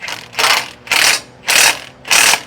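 Ratchet wrench snugging lug nuts on an 1800 HP pulling tractor's wheel: four bursts of rapid metallic clicking, each about a third of a second, evenly spaced and close by, with no talk.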